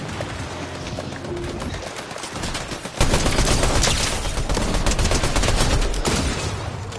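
Gunfire in the video game Fortnite, a steady, dense rattle of rapid shots that gets louder and busier partway through and keeps going to the end, with no talking over it.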